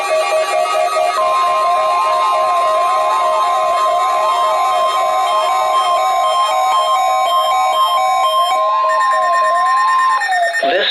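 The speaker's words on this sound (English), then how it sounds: "This is a weekly test of the NOAA weather radio warning device." A NOAA weather radio warning alert tone sounds during a weekly test, a loud, steady electronic warble running continuously and alone, with the pitch pattern shifting slightly near the end.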